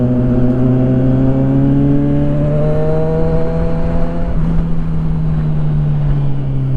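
A remapped motorcycle engine revs up loud and close, its pitch climbing steadily, then dips and holds a strong drone, with no talking over it.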